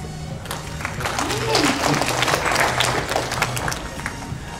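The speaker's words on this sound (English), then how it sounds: "A round of applause." Audience clapping at a stage fighting workshop at an anime convention, a steady spatter of hands mixed with voices and a faint low hum, moderately loud throughout.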